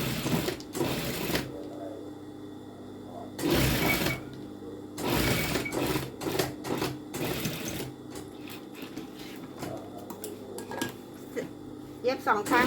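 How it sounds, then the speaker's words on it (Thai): Sewing machine stitching a fabric wing onto a placket, with bursts of rapid close mechanical whirring that start and stop between stretches of someone talking. "เราจะเย็บปีกนี้นะคะปีกนี้เรายังไม่เย็บนะ"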